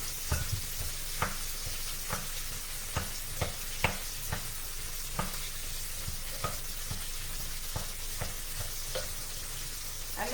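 Sliced green onions and white cabbage are mixed for okonomiyaki, a regular series of soft scraping and tapping strokes over a steady background hiss, close and unhurried, with no voices.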